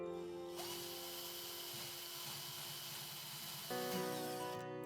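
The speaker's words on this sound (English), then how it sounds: "Now pre-drill the holes." A power drill whirs steadily for several seconds, pre-drilling holes in a drawer front, its motor pitch shifting slightly as it bites in, then cuts off abruptly.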